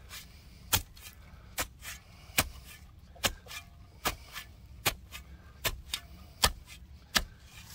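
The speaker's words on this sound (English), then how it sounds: "Take your shovel," A shovel cutting sod around a catch basin for a French drain, with sharp, regular chopping strikes roughly once every second, close and distinct against a quiet background.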